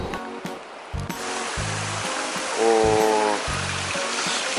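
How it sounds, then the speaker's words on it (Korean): Continuous roar of a natural waterfall in the Philippines, loud and close, with a few faint tonal hums drifting over the rushing noise. "자연 폭포."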